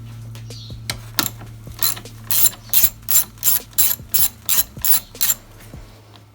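A ratchet backs out 8mm bolts on the valve cover of a BMW 335i with the N54 engine, giving a close, steady run of about a dozen sharp clicking strokes in quick rhythm over a low background hum.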